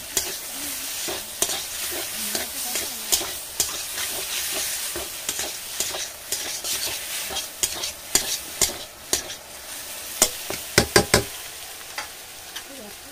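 Ginger and garlic paste sizzles in a pan as a spoon stirs and knocks repeatedly, sharp scrapes and clacks coming in quick bursts, thickest near the end, with no voices.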